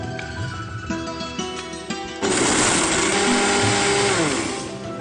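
A kitchen mixer grinder grinds salt and garlic: a faint whir under a background tune suddenly jumps into a loud, harsh, continuous high-pitched grinding roar that holds for several seconds, then eases slightly toward the end.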